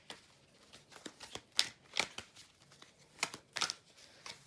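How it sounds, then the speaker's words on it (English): Tarot cards are being shuffled, giving a series of quiet, crisp riffling bursts and soft slaps spaced irregularly, close to the microphone, with no talking. "this is the third time I shuffled the cards"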